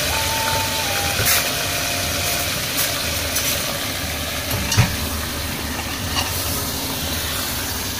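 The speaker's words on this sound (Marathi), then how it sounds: "मी आता मटण टाकलं आहे आणि चांगलं फ्राय करून घेते थोडंसं" Mutton fries in oil in a pot over a wood-fired stove, giving a steady close sizzle with occasional stirring scrapes and no one speaking.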